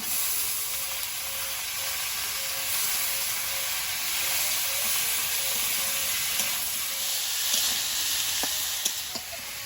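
Bottle gourd stems and potatoes fry in a pan, a steady moderate sizzle and hiss with a few faint scraping clicks near the end.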